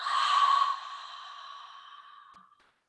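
A single slow, deep exhale through the nose during a guided breathing exercise, soft and close, with the airy rush strongest at first and then trailing off quietly over a couple of seconds.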